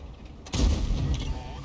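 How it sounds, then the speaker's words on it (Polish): A tank cannon fires in World of Tanks, one sudden heavy boom that cracks in and then rumbles and decays through the rest of the moment, loud and close with game ambience underneath. "Pierwszy strzał z niepowodzeniem. Drugi strzał zaraz oddamy."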